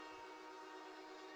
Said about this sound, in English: The train is sounding,